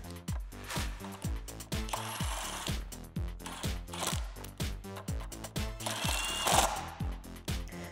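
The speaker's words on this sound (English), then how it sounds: "Then we can take a 21 millimeter socket and tighten those down." A ratchet wrench with a 21 mm socket tightens lug nuts on a Jeep Wrangler JL rear bumper install, giving a rhythmic series of rapid clicking pawl strokes with brief pauses, close and clear.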